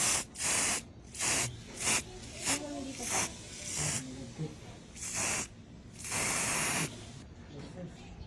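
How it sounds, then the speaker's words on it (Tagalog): Gold spray paint hissing from an aerosol can onto ten fake nails, in a series of short, loud bursts of roughly half a second each, separated by brief pauses. "nisprayan niya na nga ito ng spray paint na kulay gold"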